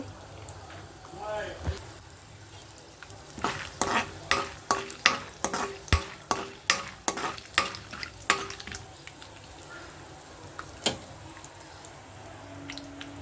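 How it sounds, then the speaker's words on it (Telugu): Curry leaves and dried red chillies spluttering in hot oil, a quick run of sharp, loud pops and crackles clustered in the middle over a low background hiss, with talking in the clip. "కరివేపాకు పైకి చెదురుతుంది కదండి అందుకే మూత పెట్టేశాను"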